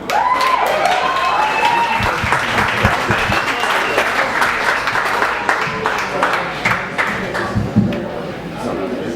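Audience at a comedy club claps and cheers loudly for a comedian taking the stage, a dense continuous wash of applause with whoops and voices mixed in throughout.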